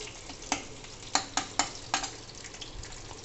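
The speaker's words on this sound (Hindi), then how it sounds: "रेड यानी कि कड़छी मैंने ली तो घुमाना चालू कर दिया" A ladle stirs smoked brinjal bharta with green chillies in a hot pan, giving a low steady sizzle and a handful of sharp scraping strokes close by, with no talking.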